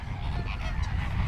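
Wild geese honking and calling at a wetland nature reserve in Spain, a dense near chorus of overlapping honks held steady over low wind rumble with no talk.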